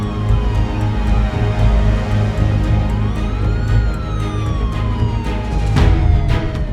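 A wailing ambulance siren sweeps up and down over loud, steady traffic rumble at the Karur stampede scene in India, with a sharp bang near the end.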